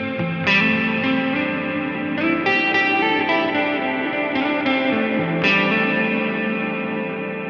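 Electric guitar played through a Line 6 Helix with reverb pre-delay set to zero, several strummed chords with washy, sustained tails that blur the start of each note, loud and alone with no voices.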